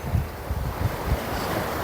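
Steady low rumble of sea waves washing at the shore in Jeddah, with gusty wind buffeting the microphone throughout; no voices.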